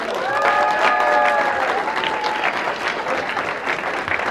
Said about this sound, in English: Big round of applause for Alex Sukala.